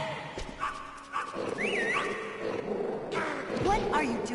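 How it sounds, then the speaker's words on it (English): Dogs in the Metal Gear Solid video game, short barks and yelps mixed with game sound effects and overlapping speech. "you gotta watch out for those dogs"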